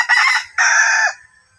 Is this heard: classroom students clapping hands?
no